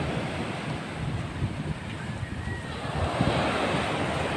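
Big sea waves at Naik surging and crashing continuously, loud and close, with heavy wind buffeting the microphone and no voices.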